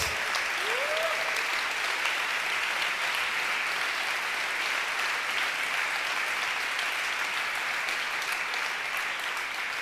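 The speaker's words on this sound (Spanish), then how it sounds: "Quiero un aplauso para nuestro sonidista, el mejor de todos, Mariano López." Dense, sustained concert crowd applause for the sound engineer at a recital at Casa Rosada, loud and even throughout with a brief whistle early on.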